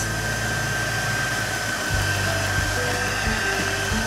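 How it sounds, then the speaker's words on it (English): A heat gun blows steadily over crystal candle wax, a continuous close whirring roar with a faint steady whine that shifts slightly in pitch midway, with no speech. "Be careful when you're using a heat gun not to hold it over your wick."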